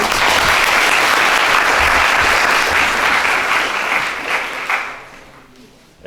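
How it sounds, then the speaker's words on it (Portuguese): An audience at a Brazilian Army presentation gives the captain a loud round of applause, full and steady before tapering off toward the end. "Salve de palmas para o capitão."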